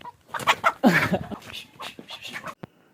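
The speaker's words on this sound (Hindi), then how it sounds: "मुर्गा सामने खड़ा है" A rooster clucks and squawks up close in a quick, loud burst of calls, followed by a sharp short click.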